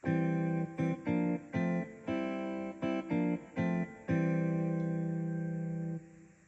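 Yamaha PSR-SX920 keyboard plays back a short corrected phrase of clean, sustained tones, a run of separate notes followed by one long held note that fades, quiet and alone.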